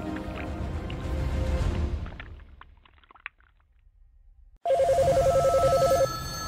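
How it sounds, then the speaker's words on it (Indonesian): A telephone rings at the NASA hotline, a loud electronic double-tone ring bursting in after a quiet stretch and holding for over a second, following fading background music. "Hotline NASA terus-terusan berdering."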